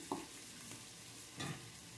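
Diced onion sautéing in a pressure cooker, a quiet continuous sizzle broken by two soft scrapes of stirring, close and faint, with no talk.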